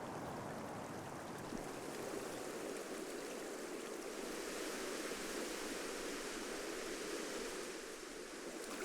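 A cold mountain river rushes steadily, a constant broadband wash of flowing water with no breaks or voices, close and even throughout.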